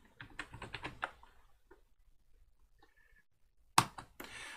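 A short flurry of computer keyboard keystrokes at a command-line terminal, close and moderately quiet, followed by near silence, a few faint clicks and then a sharp louder key hit.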